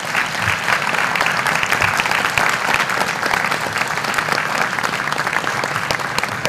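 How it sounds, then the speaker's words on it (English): Loud, sustained applause from a standing crowd at a 4-H gathering, dense and even clapping filling the room with no pause or speech. "Let's give them a round of applause."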